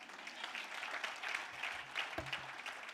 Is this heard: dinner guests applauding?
yes